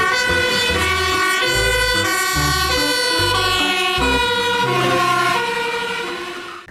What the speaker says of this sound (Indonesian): lihat ini teman-teman, ada truk pemadam kebakaran